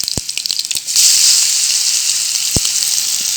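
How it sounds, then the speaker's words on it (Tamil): Gooseberries (amla) hit hot oil with mustard seeds for a pickle, setting off a sudden loud sizzle that holds steady, with a couple of sharp clinks before and after. "கடுகு போட்டுட்டேன் நான் வந்து கருவேப்பிலை பயன்படுத்தலை இன்றைக்கி ஸோ நெல்லிக்காவை போடுறேன்"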